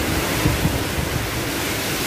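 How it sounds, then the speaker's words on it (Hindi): Wind blowing outdoors during rainy weather in Delhi, a steady dense rush that buffets the microphone with a few low thumps, with no talk over it. "इतनी अच्छी हवा चल रही है"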